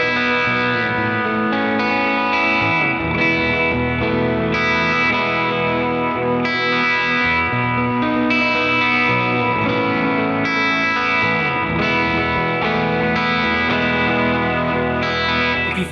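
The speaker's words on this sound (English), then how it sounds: "The lo-fi character of the analog delay algorithm lets the repeats melt into each other." Electric guitar through an analog delay on a Line 6 HX Stomp plays sustained chords whose lo-fi, slightly modulated repeats smear together into a washy pad, loud and continuous without any talk.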